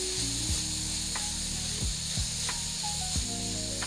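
Suya spice stirred into suya fried rice sizzling in a pan, a steady hiss and crackle with a few scraping strokes of the spoon, close and fairly quiet, no talking.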